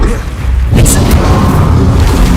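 Incendio fire spell cast in the video game Hogwarts Legacy, a loud booming burst of flame in the thick of combat, layered with continuous battle noise and other effects.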